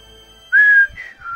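A short whistle sound effect for the Whistle move in the video game Pokemon Gold: one clear rising-then-steady tone followed by two softer whistled notes, alone and fairly loud.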